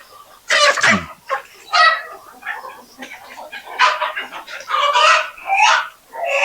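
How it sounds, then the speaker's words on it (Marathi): Desi hens on a poultry farm cluck and squawk nearby in repeated bursts, with one loud squawk early on and busy overlapping calls throughout, and no talking. "आता इथे आपला हे कोंबड्या बघा बसलेत"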